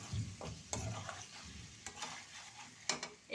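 Beef and bottle gourd curry being stirred in a pan, with scraping spatula strokes over a soft, quiet sizzle.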